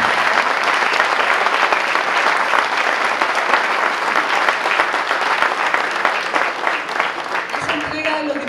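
Audience at a wine awards ceremony applauds a winning Torontel wine, loud sustained clapping from a large crowd held evenly for several seconds, with an announcer's voice briefly emerging as it fades.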